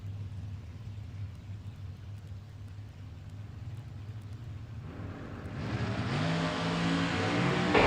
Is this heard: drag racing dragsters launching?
yes